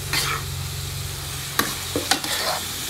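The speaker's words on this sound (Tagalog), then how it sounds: "Haluin lang natin. Haluin lang natin siya." Diced tomatoes and basil being stirred in a pan, a steady low sizzle running throughout with a few sharp scrapes and clacks of the utensil against the pan.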